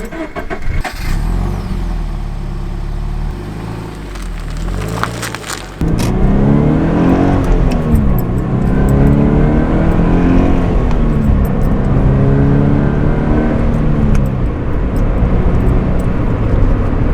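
A Scion FR-S sports car gets under way on the road. After a few seconds of steady cabin noise, the engine's rising drone comes in loud and sustained from inside the car as it accelerates.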